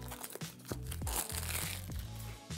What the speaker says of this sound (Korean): 일단 비닐 포장돼 있는 거 먼저 뜯어보도록 할게요